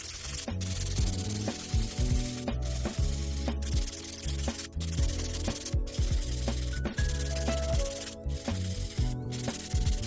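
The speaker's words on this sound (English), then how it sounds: "I'll go in with my buffer and remove any of the scratches on the nails." A nail buffer works over polygel nails in quick, repeated rubbing strokes, a close, soft scratchy sound with short regular pauses between passes and no speech.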